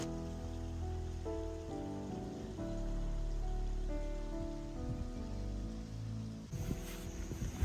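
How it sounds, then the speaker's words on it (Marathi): Heavy rain patters down steadily on a trek to Korigad Fort, a dense wash of drops heard beneath sustained music, with louder splashes near the end. "त्याच्यामध्ये हा इतका जोराचा पाऊस"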